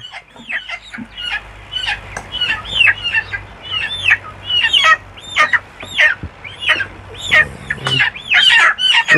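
Many colour bird chickens on a poultry farm cluck and squawk close by in a lively, overlapping chorus of short repeated calls.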